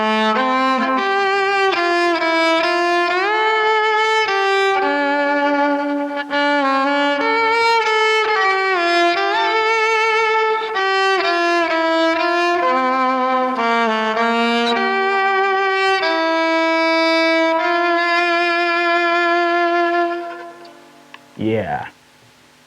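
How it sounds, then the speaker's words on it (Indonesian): An electric violin played through an amplifier via a jack cable, a loud, bright melodic line of sustained and sliding notes with vibrato, ending in a quick scrape before silence. "itu suara yang dihasilkan oleh biola elektrik dengan bantuan kabel jack"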